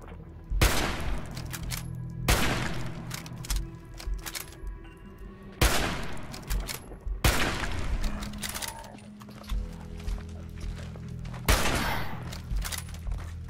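Bursts of gunfire in the Fallout 4 video game, about five loud clusters of rapid shots spaced a couple of seconds apart, each decaying into a short echoing tail.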